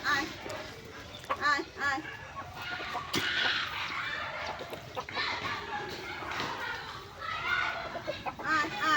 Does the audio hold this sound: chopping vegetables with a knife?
no